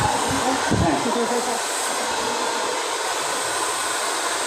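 A hair blow dryer runs loud and steady in a home, a constant broadband whoosh throughout, with a brief fluctuation early on and faint talk in the background.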